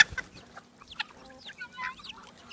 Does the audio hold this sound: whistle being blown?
no